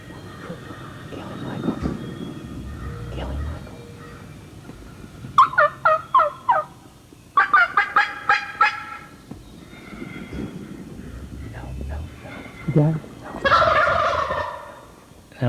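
Wild turkey gobblers sound off in spring woods, several loud rattling gobble bursts in quick series around the middle of the clip, with another gobble near the end over quieter background activity.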